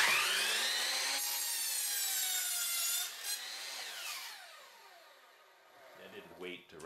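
A saw cuts through thin wooden sheets for mini beehive frames, a steady whining, rasping cut that runs continuously for several seconds before tapering off, followed by a few small clatters near the end.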